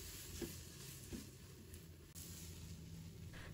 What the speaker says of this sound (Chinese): 继续翻炒出红油